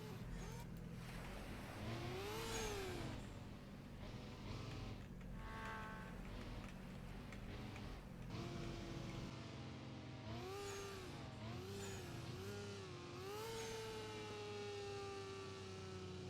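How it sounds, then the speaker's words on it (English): The Wedge vehicle in Roblox Jailbreak drives along with its synthetic engine tone rising and falling through repeated revs, a steady hiss laid over it, fairly quiet overall. "this vehicle has a hissing sound over the engine"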